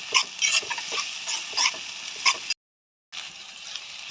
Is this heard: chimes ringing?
no